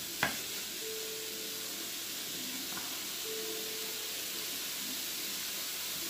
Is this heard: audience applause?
no